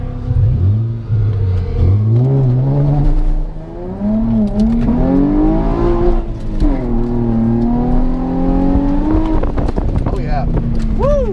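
A Nissan 350Z's engine revs and drones loudly and steadily on a drift course on cold tires, its pitch rising and falling through slides, with people talking over it throughout.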